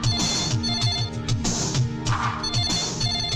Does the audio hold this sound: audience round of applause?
no